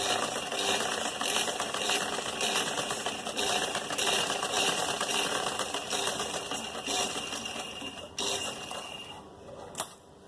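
A sewing machine stitches a curved neckline on an embroidered kameez with a steady, close mechanical whir that runs almost without a break, then slows and stops near the end.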